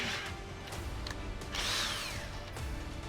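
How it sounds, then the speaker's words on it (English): A power drill whirs in short bursts, driving an air valve into a plastic tub, fairly quiet with a brief rising whine in the middle and no voices. "you can just drill them right into the hole"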